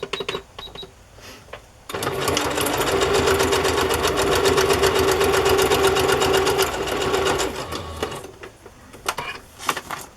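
A sewing machine zigzag-stitches through journal pages in one loud, steady eight-second run, close up, stopping abruptly, with a few faint handling clicks before and after.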